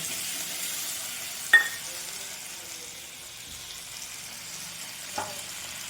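Cumin, ginger and coriander paste added to fried tomatoes, with a faint steady sizzle in the pan and two brief clinks of a utensil or bowl.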